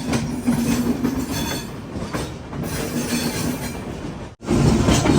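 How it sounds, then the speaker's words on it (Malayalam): A fully air-conditioned Haridwar-to-Mumbai Central Railway express rushes past at close range, a loud continuous roar of wheels and carriages that dips briefly near the end before surging again. "ഓ, ഇത് ഹരിദ്വാറിന്ന് മുംബൈയിലേക്ക് പോകുന്ന വണ്ടി."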